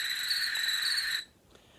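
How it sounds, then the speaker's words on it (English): A dense, steady high-pitched cricket trill that fills the first second, then cuts off abruptly, leaving near silence. "Pete hears an odd chirping noise. What is that? He asks out loud. Those are just crickets."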